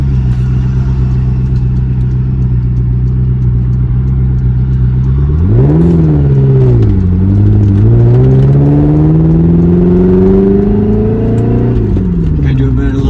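A 1997 Lotus Esprit V8 Twin Turbo drones at a steady engine note, then revs and accelerates through rising pitch sweeps, with a gear change and a loud, near, continuous roar.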